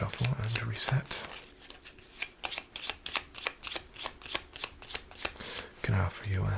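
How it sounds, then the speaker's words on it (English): Playing cards are shuffled at a casino table in quick, soft riffling flutters, a steady run of crisp close-up snaps with a quiet voice murmuring at the start and end. "Let's just get a quick shuffle and reset."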